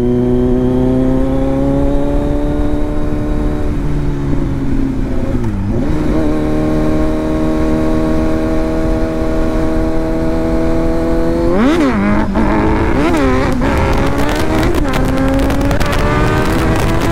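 Kawasaki Z900 motorcycle engine revving hard on a ride, steady loud drone climbing through rising and falling pitch sweeps, with sharp throttle blips near the end, close and continuous without talk.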